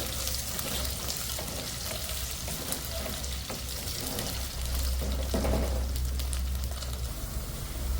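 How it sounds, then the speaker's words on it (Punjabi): Potato pieces fry in oil with cumin seeds in a pan while a broccoli and cauliflower curry is being made, giving a steady, close sizzle that runs throughout with faint stirring. "ਆਲੂਆਂ ਨੂੰ ਅਸੀਂ ਭੁੰਨ ਲਵਾਂਗੇ ਜੀਰੇ ਦੇ ਵਿੱਚ"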